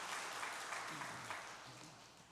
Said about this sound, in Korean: 우리 한번 박수 한번 보내주시면 좋겠습니다.